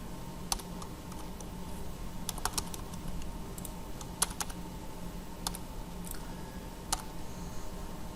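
Fingers tap on a computer keyboard in a quiet room, soft, irregular clicks with a few sharper keystrokes spread across several seconds.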